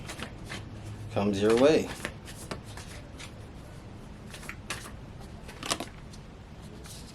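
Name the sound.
tarot cards being shuffled and pulled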